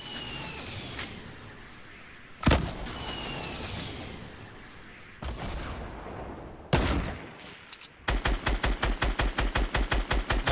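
Gunfire in Fortnite: two single heavy shots a few seconds apart, followed by a rapid, evenly spaced burst of automatic fire, loud and close, over a low ambient game background.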